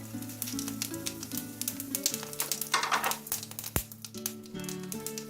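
Cumin seeds crackle and sizzle in a hot karai that was used for frying bata fish, a dense, busy patter of small pops over a steady hiss, close and continuous.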